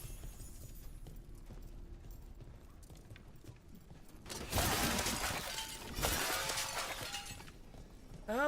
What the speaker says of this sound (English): love the sound of breaking glass